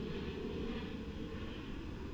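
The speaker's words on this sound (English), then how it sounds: "sorry for the plane" An airplane passes overhead at a park with trout ponds, a faint, continuous low engine rumble throughout with no talk.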